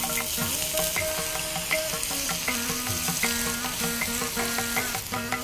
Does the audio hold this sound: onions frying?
yes